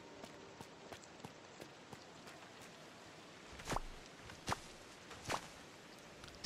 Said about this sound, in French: Ah mon dieu, il pleut!